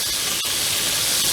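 Garlic sizzling in hot oil in a pan on a fairly hot burner, a steady dense hiss that stays loud and even throughout.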